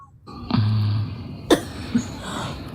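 A single sharp cough rings out after a brief low hum, followed by a smaller throat sound, fairly close with little talk.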